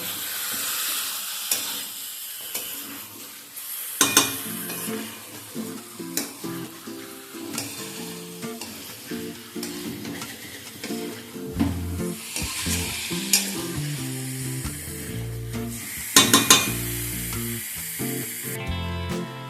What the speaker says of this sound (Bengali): প্রথম 3 থেকে 4 মিনিট হাই ফ্লেমে চিকেনটাকে মশলার সাথে কষিয়ে নেব।